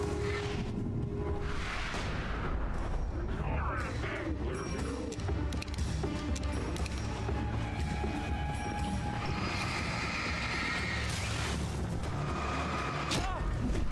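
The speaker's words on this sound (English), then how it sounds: "Alright, flashbang time." A flashbang grenade goes off in the Alan Wake Remastered video game, a loud dense blast and roar amid constant game noise and effects.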